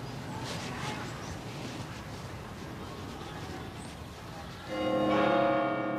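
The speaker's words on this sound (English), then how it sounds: "Inside this tower is a grand musical instrument, the Loughborough Carillon." Bronze bells of the Loughborough Carillon ring out, a bright, sustained tuned bell tone entering strongly near the end after a stretch of diffuse outdoor background.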